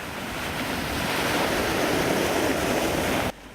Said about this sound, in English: Waves breaking on the shore.